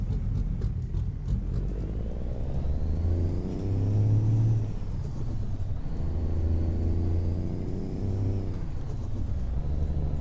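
A heavy truck in American Truck Simulator makes a hill start and pulls away, its deep engine rumble swelling and rising in pitch through two long pulls, with a faint hiss near the start, close and steady with no talking.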